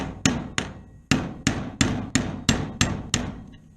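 A 1/8 inch punch is struck with a hammer to drive the roll pin out of a Hi-Point C9 pistol. Nine sharp metallic blows land in a steady, even rhythm, close and clear, with no talk.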